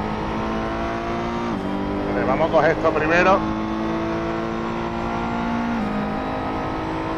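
Engine of a car in a VR driving game, a steady idling hum with a short burst of revving in the middle, heard under someone speaking.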